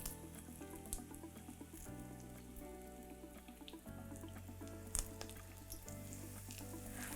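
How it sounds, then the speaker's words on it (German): A vegan cordon bleu made from savoy cabbage leaves is laid seam-side down in hot oil and fries with a faint, steady crackle, accompanied by soft background music and no talk. "Und dann kommt das Päckchen in das heiße Öl mit der Verschlussseite unten."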